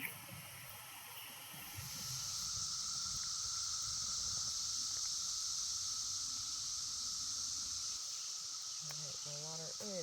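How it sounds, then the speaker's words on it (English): Water boils in a pot on a camp stove at a campsite in Kentucky's Red River Gorge, a steady close hiss and roar that swells after a quieter start and holds, with a voice speaking briefly near the end. "My water is boiling."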